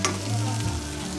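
Onion and garlic fry in a pan, a loud close sizzle with stirring, no voices.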